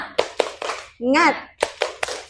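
A class group performs a rhythmic 'tepuk semangat' cheer clap: sharp patterned hand claps, interrupted midway by a short chanted shout of voices, then more claps resume in the same beat.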